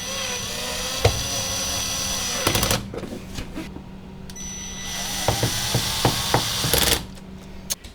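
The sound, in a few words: screws being put back into a refrigerator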